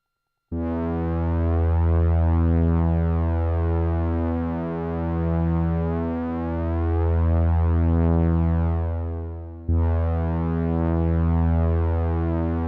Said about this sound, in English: Only the synth.